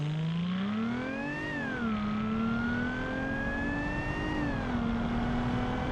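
A supercharged car engine in the BeamNG driving game holds a steady, loud droning tone that rises and falls gently as it revs, alone with no voices.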